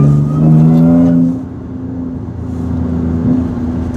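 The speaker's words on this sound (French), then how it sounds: "Tu vois le bruit quand on roule?" Steady road rumble inside a moving car with a supercharged V6, with a low engine hum and a brief tonal whine early on; nobody speaks.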